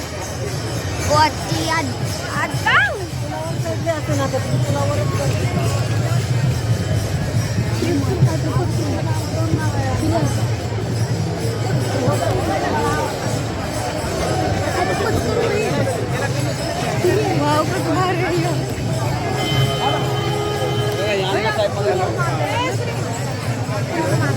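A big gathering of people fills the air with steady crowd chatter and murmuring voices, a thick constant babble with a few louder calls standing out.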